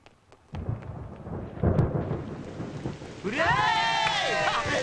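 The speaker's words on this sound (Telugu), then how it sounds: "ఫోన్ ఎట్టగానే ఉరుములు మెరుపులు వచ్చేస్తున్నాయంటే" Low thunder rumbles over steady falling rain in a film scene, with a few sharp crackles at first and tonal music swelling in over the storm in the second half.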